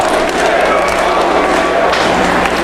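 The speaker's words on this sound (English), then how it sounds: "Whatever it is, the crowd loves it here." A professional wrestling crowd at an ROH Glory By Honor show roars after a springboard move, a loud, sustained wall of cheering with voices mixed in.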